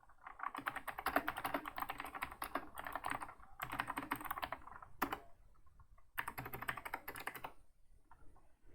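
Rapid bursts of typing on a computer keyboard, entering commands on an Ubuntu PC, with dense clattering keystrokes in several runs broken by short pauses, close and clear with no talking.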